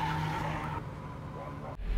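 A car sliding around a skid pad, its tires squealing in a steady, high-pitched howl over engine noise, then cutting off abruptly with a brief thump at the end.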